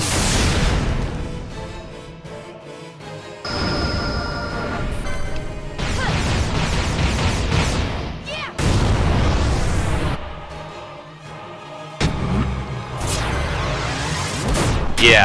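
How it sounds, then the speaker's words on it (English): Missile chain attack in Final Fantasy 12 International, a rapid series of loud booming explosions and crashing impacts in successive waves, no talking over them. "this missile chain is a lot better than the last one that I did"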